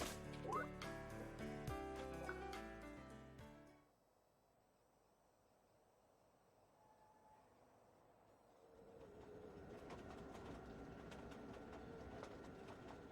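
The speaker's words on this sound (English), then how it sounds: "So we're gonna get back on the tram." Riding the tram in the video game The World Next Door, with game music giving way to a quiet low rumbling hum, then a fuller steady rolling drone as the ride continues.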